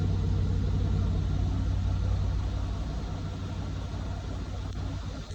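A Mercedes-Benz GL truck's engine idles steadily, a low continuous rumble that carries on alone, while the rear air suspension raises the vehicle after an air spring replacement.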